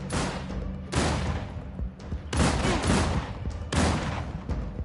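Repeated gunfire bursts from a The Last of Us fan-made video game, loud volleys of shots with booming thuds arriving in three or four clusters, each followed by a decaying rumble.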